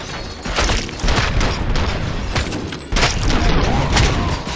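Dense, loud bursts of shotgun fire and explosions from the video game Robocop: Rogue City, with blasts overlapping in rapid succession and no pauses in the din.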